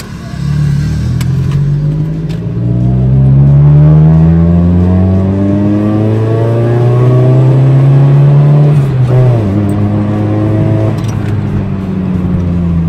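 A 1600 cc four-cylinder car engine revs high while driving, its pitch climbing steadily for several seconds, dropping sharply at a gear change, then rising again, loud and close throughout with no talk.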